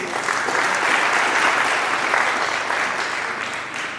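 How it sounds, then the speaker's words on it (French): A dense, steady wave of audience applause at the opening ceremony of the 4th edition of the MDR International festival, holding full and even for about four seconds before easing slightly at the end. "je vous demande d'applaudir"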